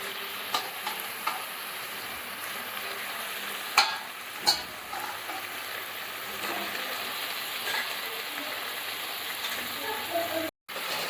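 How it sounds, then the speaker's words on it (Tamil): Washed chicken pieces sizzle in a pan of sautéed masala for a chicken gravy, a steady crackle broken by a few sharp stirring knocks and scrapes, with a brief dropout near the end. "இப்போ சிக்கனை கழுவி வச்சு சிக்கனை எடுத்து போடுறேன்"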